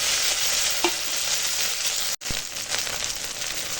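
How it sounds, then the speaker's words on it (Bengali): Chopped onions and green chilli sizzle steadily in hot oil as tomato and ginger-garlic paste are added, with a brief stir, a clink and a short break in the frying hiss. "দেখো এখন পেঁয়াজ হয়ে গেছে ভাজা আর দিয়ে দিলাম টমেটো আর আদা রসুনের বাটা"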